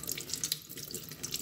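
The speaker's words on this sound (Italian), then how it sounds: "Facciamo scorrere l'acqua sull'occhietto con le mani, sul rullino" Running tap water splashes steadily over a fishing reel being rinsed by hand, a close continuous hiss with small spattering bursts.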